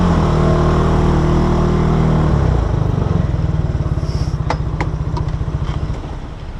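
A motorcycle engine runs loud and close as the bike rolls in to park, with a low chugging idle that slows to a pulsing putter, and a few light clicks and clanks toward the end.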